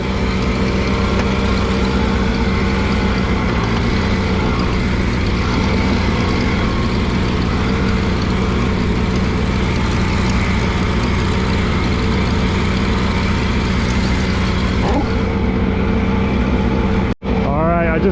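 An Allis Chalmers G tractor pulling a cultivator has a steady, loud engine drone with a constant mechanical rhythm that runs throughout, close to the microphone, with a brief clunk near the end.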